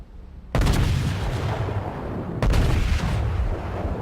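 Warship artillery in the naval video game World of Warships: two heavy booming salvos, the first after a short quiet stretch and the second about two seconds later, each followed by a long rumbling decay.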